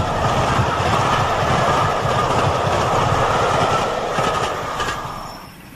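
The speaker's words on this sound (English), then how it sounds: "The world-famous Flying Scotsman passes through Sodor Viaduct, making wind with his tremendous speed." The Flying Scotsman steam locomotive races past at tremendous speed over a viaduct, a loud, sustained rolling rumble with rhythmic wheel clatter that holds steady before fading away at the end.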